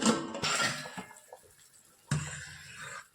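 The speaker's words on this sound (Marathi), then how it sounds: "20 ते 22 मिनिटं झाले, परत एकदा आपण झाकण उघडून बघू." A pot lid is lifted off a pot of sabudana (tapioca pearls) cooking for papad, giving a loud metallic clank and scrape, then a quieter stretch with small clinks before a second sharp clatter of the lid near the end.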